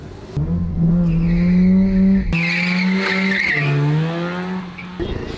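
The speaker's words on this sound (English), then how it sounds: "You gonna do a burnout for us" A car with a freshly rebuilt rotary engine roars at high revs while its tires spin in a burnout, shrill tire squeal layered over the loud, steady engine drone, with the pitch shifting midway and easing near the end.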